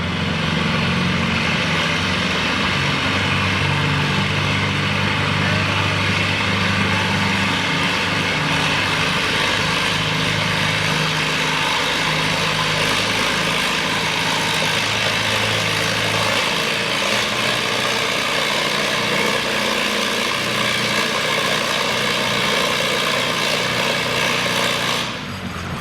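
A classic pulling tractor engine runs loud and steady at a tractor pull, a constant low rumble with a droning hum that holds throughout and stops abruptly at the end.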